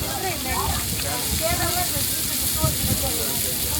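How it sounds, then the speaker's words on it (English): Small crabs coated in masala fry at a seaside grill stall in Dhanushkodi, giving a constant dense sizzle and crackle with broadband hiss, while voices talk faintly in the background. "Frying small crabs."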